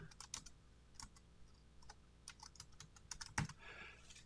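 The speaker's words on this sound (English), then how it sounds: "I can type anything I want here." Typing on a computer keyboard, with scattered quiet keystroke clicks coming in uneven bursts and short pauses over a low background hiss; no one speaks.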